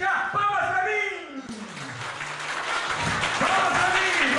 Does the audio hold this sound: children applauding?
yes